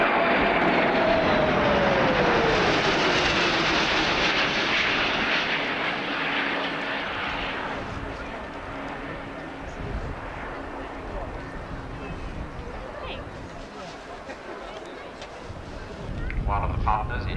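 A Lockheed TriStar of 216 Squadron passing at an RAF Abingdon airshow in 1990, a loud jet roar that slowly fades and recedes into a steady distant rumble with crowd ambience beneath.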